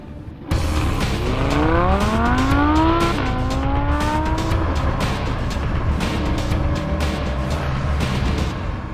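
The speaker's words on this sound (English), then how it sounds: "I just want to talk about this marvel of a V10 engine behind me." The naturally aspirated V10 of a Lamborghini Huracán in sport mode revs loud and close while driving, rising through a gear with a sharp upshift, then holding a steady, rough engine note on the road, with no talk.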